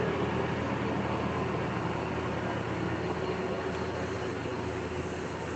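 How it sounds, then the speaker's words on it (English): Heavy freight trucks rumble past at close range as one steady, loud roar of engine and road noise, with no talk over it. "Oh, these trucks are loud."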